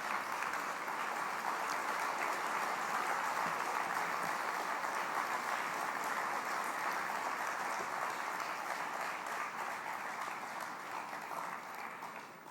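Sustained applause from a large audience at a South African investment conference, welcoming President Cyril Ramaphosa back to the stage; steady dense clapping continues throughout, slowly thinning toward the end, with no one speaking over it.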